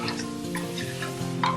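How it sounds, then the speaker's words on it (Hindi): Mutton fries with garlic, ginger, garam masala and coriander powder in a pan, giving a brief, steady sizzle with a few light stirring clicks. "मटन को भूनना है।"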